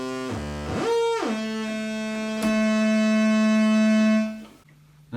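Blue oscillator of an Arp Odyssey synthesizer: a bright, buzzy tone sweeps up and back down in pitch, then settles into a long steady low drone before cutting off, close and loud.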